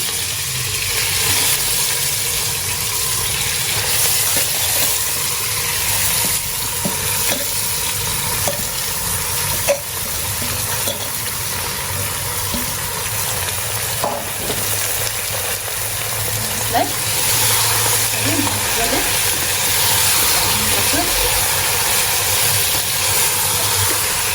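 Marinated mutton with garlic frying hard over a high gas flame: a loud continuous sizzle and hiss with a steady burner roar beneath, broken by occasional scrapes and clacks of stirring, close and unbroken throughout.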